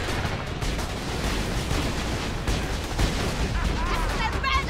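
Grenade blast and gunfire in Borderlands 2, a dense, continuous roar of booms and shots throughout, loud and close, with a voice talking over it.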